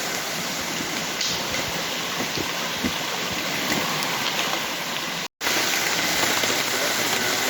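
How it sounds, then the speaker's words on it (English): Heavy rain falls steadily outdoors at a prospecting dig site, a dense, constant hiss of drops hitting surfaces that fills the whole stretch loudly and close, with one very brief cutout partway through. "it's raining pretty hard now"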